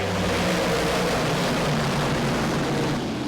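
Modified race cars accelerate at a drag strip in Granby, a dense, loud engine roar with a rough buzzing tone that holds steady for a few seconds.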